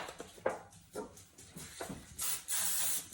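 Cooking spray hisses into a tin loaf pan in a home kitchen, with short bursts early on and a longer, louder hissing spray toward the end, heard close up.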